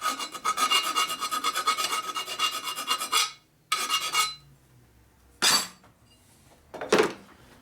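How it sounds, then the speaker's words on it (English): Hand burr remover scraping a sharp burr off an aluminum Harley shovelhead engine case, several rough rasping strokes in a steady run, then two short separate scrapes, close and fairly loud. "Burr remover."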